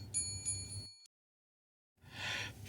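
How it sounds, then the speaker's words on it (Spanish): A bell rings out as a series of bright, metallic tones announcing that dinner is served. The ringing breaks off into silence, and a short burst of noisy sound follows. "En ese momento una campana anuncia que la cena está servida."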